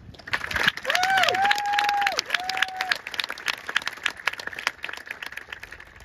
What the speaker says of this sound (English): let's at least start off this speech on a high note with a quick round of applause for us